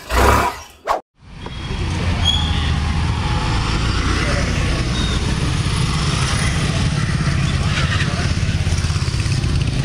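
A Suzuki Access 125 scooter starts after a short burst of sound and a brief pause, then settles into a steady, close engine hum that runs evenly for the rest of the clip.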